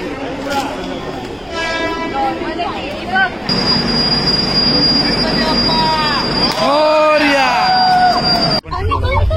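Passenger train running on rails, heard from inside a carriage: continuous rumble with repeated wheel squeals and a high whine, loud and close, under chatter and background crowd babble.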